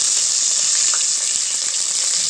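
Chopped onion frying in a pan gives a steady, loud, hissing sizzle that holds evenly throughout without pause.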